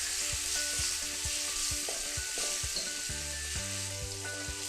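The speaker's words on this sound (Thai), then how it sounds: "เริ่มจากตั้งกระทะนะคะใส่น้ำมันรอให้ร้อนแล้วเราก็ ใส่พริกกับกระเทียมที่เราโขลกเอาไว้ค่ะ" Pounded chili and garlic fry in hot oil in a wok, a steady loud sizzle throughout with soft, regular tapping of a utensil stirring beneath it, and no talk.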